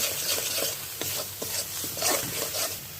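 Spices with turmeric and tomato paste being stirred and sautéed in a pan for a banana kebab curry, with a close, steady sizzle and repeated scraping strokes of a spoon.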